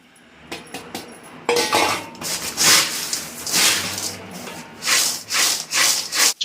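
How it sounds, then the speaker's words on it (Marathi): Dry rustling and scraping as chivda is tossed with spice masala and stirred in a bowl, with repeated rubbing bursts and a few light clinks, no talking. "सगळं आता मिक्स करून घेऊया आणि चिवड्याला लावून घेऊया"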